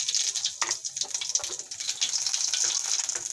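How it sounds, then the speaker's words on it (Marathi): Cumin seeds hit hot oil in a pan for an aloo baingan sabji, giving a loud, steady crackling sizzle with hissing bursts throughout, close and without talk. "तेल गरम झालेलं आहे। जिरा घालू।"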